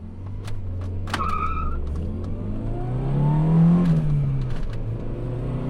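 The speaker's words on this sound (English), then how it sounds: "I'm actually going to do a 0 to 60 while there's no one around." A Honda Super N kei car accelerates from standstill toward 60, its small engine revving up through a gear change with a rising whine, heard from inside the cabin with a few clicks and knocks.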